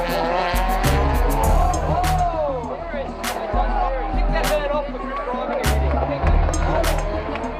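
Drift cars at the opening round of the 2007 Toyo Drift Australia Championship in Perth scream past with revving engines and long, wavering tire squeals that repeat as each car slides through, while a voice talks over the action.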